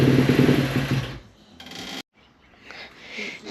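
A 2017 Kawasaki KX250F dirt bike engine with a bad fuel pump briefly runs rough and loud, then sputters and cuts out, leaving quieter mechanical noise afterward.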